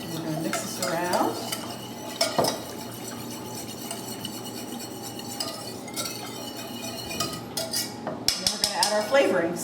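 A spoon scrapes and clinks steadily against a pot while pizza sauce ingredients are stirred together, with rhythmic scraping, occasional sharp taps on the rim, and light liquid sloshing close by.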